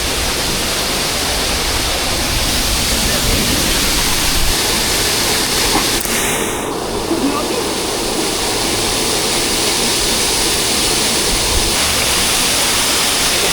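A powerful waterfall roars nearby at the base of the falls, a loud, dense and steady rush of crashing water that continues without a break.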